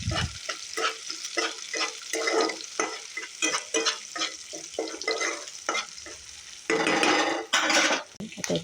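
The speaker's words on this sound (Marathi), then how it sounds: "इथे मला भात फ्राय करायचं आहे." Rice frying in a pan with tomatoes and peanuts, stirred in steady repeated strokes that scrape and clatter against the pan over a constant sizzle, turning louder and denser toward the end.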